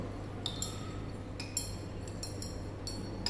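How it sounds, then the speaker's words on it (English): A glass rod clinks against glassware while stirring a mixture made alkaline with ammonia in an iron limit test, giving several light, bright taps spread irregularly over a low steady hum. "Then we will stir by means of another glass rod."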